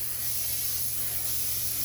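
Cooking spray hisses in one continuous burst as it coats a lasagna casserole dish, a close, steady spray with a faint low hum underneath.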